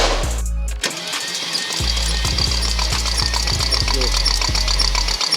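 A Mercedes GT63s AMG with a compression leak, bought as a non-runner, cranks over in several uneven bursts of starter churning without catching, loud and close, broken by short pauses.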